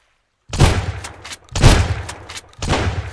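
Three heavy shotgun blasts from the survival game Sunkenland, each a loud booming shot with a short rumbling tail, spaced about a second apart after brief silence.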